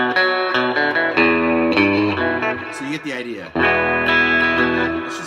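Electric guitar, a Rickenbacker 330 through a Boss Katana 50 amp on its clean channel with treble up and hall reverb, plays sustained chords and picked notes loudly and steadily, with a brief dip before strumming resumes, and a voice speaks briefly over it.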